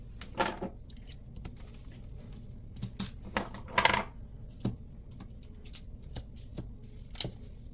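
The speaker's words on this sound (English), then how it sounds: "Then I can put my pattern weights on once I have it matched." Sewing pattern weights are set down on fabric laid out for cutting, producing a series of light, scattered metallic clicks and taps close by.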